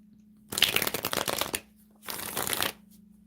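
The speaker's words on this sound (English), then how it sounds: "All right, Raven, I'm shuffling, and you just wanted a general reading" A deck of tarot cards shuffled for a live reading: two crisp, close bursts of riffling, the first longer, with a quiet hum between them.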